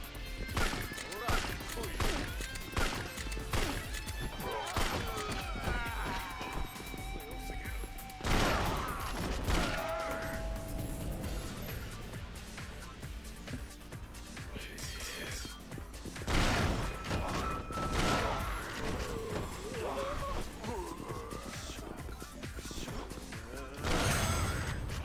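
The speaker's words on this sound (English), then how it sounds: "I'm going to use his shotgun." Shotgun blasts and brawling from Yakuza 4 come as dense, repeated impacts and bursts across a busy stretch, with a few louder hits standing out over steady game noise, and a voice talking intermittently underneath.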